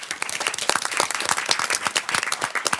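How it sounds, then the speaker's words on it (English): Audience applause at a school board business meeting, a dense, steady patter of many hands clapping that stays loud and fairly close for the whole stretch, with no talking over it. "Let's give them a round of applause."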